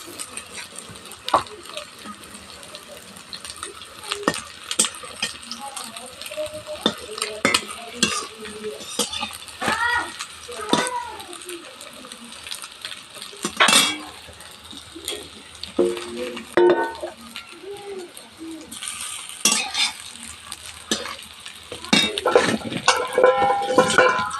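Egg mixed with onion, salt and turmeric frying in a pan, soft sizzling under repeated scraping and stirring with a utensil, with someone speaking intermittently close by.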